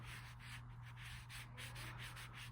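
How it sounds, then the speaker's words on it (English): A black 420 stainless steel knife blade is dragged back and forth along a cut-resistant glove, giving a soft, continuous rubbing and scraping with steady strokes and a low background hum, faint and close, no talk. "Just dragging it around along the glove."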